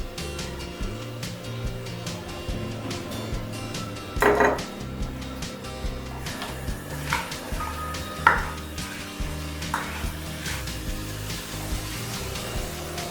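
Vegetable cheese pulao being stirred with red chili sauce and soy sauce in a pan, with steady scraping and clinking of a spoon against metal and a few sharper knocks, close and continuous with no talking.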